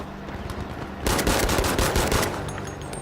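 Gunshots from a P08 pistol fitted with a scope in a video game, a loud fast string of close shots packed into a couple of seconds with no talking.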